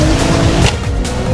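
A Nissan R33 GTST pulls away, its engine droning loud and close with a brief tire squeal over a steady rumbling low end.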